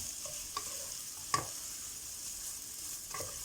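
Food being stir-fried in a pan, a faint, steady sizzle with occasional soft scrapes and taps of a utensil against the pan, heard alone at low level.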